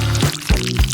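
Liquid is poured over food in quick, close, splashy gushes, with low gurgling bursts repeating about three times in a second.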